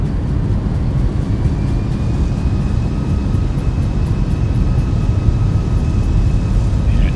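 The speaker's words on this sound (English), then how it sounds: "Thrust reversers engaged" Airliner thrust reversers roaring on landing in X-Plane 11, a loud, steady broadband engine rush with deep rumble holding constant for several seconds, no voices over it.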